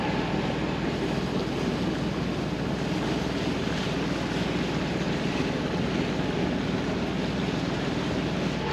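Strong tidal current rushing through open water off Komodo in Indonesia, a steady loud broadband roar of moving water and wind with no breaks throughout, heard up close without voices.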